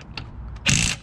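A ratchet works loose the wheel nuts on a car's rear wheel: a few faint clicks come first, then a short, loud, close burst of rapid ratcheting.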